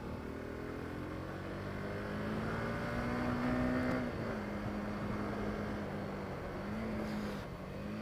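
A 2021 Honda CBR 150R motorcycle on a track, its engine a steady close drone that rises and falls in pitch as the rider works the throttle, with no talk over it.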